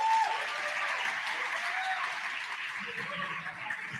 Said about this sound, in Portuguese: vamos receber com uma salva de palmas Raíssa Miguez